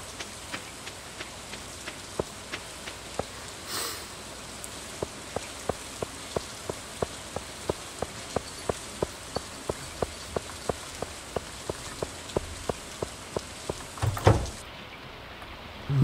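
Rain patters steadily in Stardew Valley, a soft hiss broken by regular, evenly spaced ticks like drops striking a surface, with a brief louder rustle near the end.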